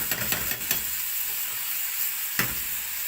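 Onion fries in a pan with a steady, bright sizzle and hiss, broken by a few soft clicks and a single sharp knock of a utensil against the pan.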